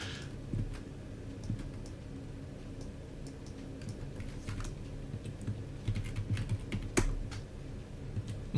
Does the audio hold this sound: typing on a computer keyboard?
yes